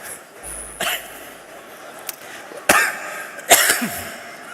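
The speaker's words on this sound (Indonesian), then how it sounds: "Itu batuk." Several sharp coughs spaced out over a few seconds, close by, during a religious lecture in a large hall, with quiet background noise between them.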